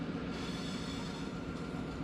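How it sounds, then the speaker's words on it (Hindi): Pakistan's Jaffar Express pulls into a station, a steady dense rumble of the train with a faint high wheel squeal, heard from close by. "40 डाउन जाफर एक्सप्रेस भी आ चुकी है।"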